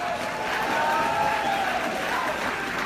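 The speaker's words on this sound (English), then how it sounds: "Everyone needs to give Suzanne a clap" Audience applause at a social media business summit, a moderate wash of clapping hands from a crowd with some faint cheering and voices mixed in, fairly steady throughout.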